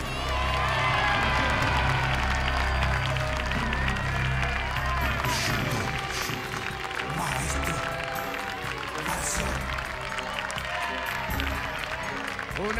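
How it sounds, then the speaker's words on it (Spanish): A studio arena crowd applauds and cheers at a martial arts wrestling show, a dense, sustained roar of clapping and voices throughout, with occasional louder shouts rising above it. "aplausos."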